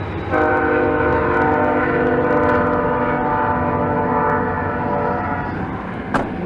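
A loud horn blares in a long sustained chord as a train passes close by, its rumble running under it before the horn cuts off.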